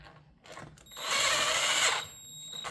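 A power driver tightens screws on a Husqvarna 455 Rancher chainsaw during reassembly: a single whirring burst of about a second, close by, between quieter handling sounds.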